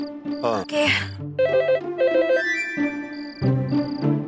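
A telephone ringtone in a Hindi TV drama plays as a bright repeating electronic melody of stepped tones, loud and close, over other musical sounds.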